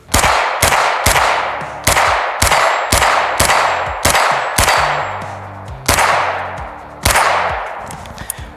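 Loud, close shots from a Grand Power Stribog 9mm carbine, about eleven sharp reports at a steady semi-automatic pace, each ringing out briefly, with a small clink at the end.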